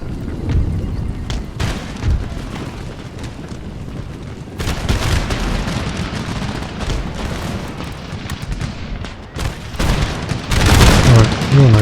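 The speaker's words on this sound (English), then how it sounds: "Some damn good shooting going on." Artillery and musket fire from a Napoleonic-era battle in the strategy game Empire: Total War, a dense continuous rumble of booms and volleys with louder bursts toward the end, under someone talking.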